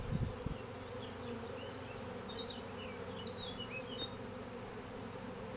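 Dense, steady buzzing of a large colony of black honey bees in an open wooden hive with frames lifted, a continuous close hum with brief individual bee whines darting over it, no talking.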